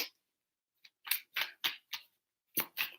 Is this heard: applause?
no